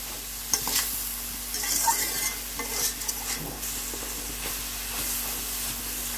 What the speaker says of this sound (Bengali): আর একটু ভাজা ভাজা করব